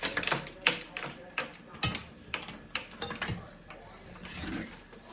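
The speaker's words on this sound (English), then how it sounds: "Check this out. Frying pan." A frying pan is handled outdoors, giving a series of sharp metallic clanks and taps at an irregular pace, close to the mic, with people talking in between.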